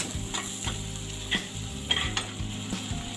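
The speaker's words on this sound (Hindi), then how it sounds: "मैं इसमें ऐड कर रही हूँ हरी मिर्च और थोड़ा सा अदरक। सब मिक्स हो गया है।" Pav bhaji cooking in a pan as green chilli and ginger are stirred in, with a steady sizzle and frying hiss broken by a few scraping, clinking strokes of a spoon against the pan.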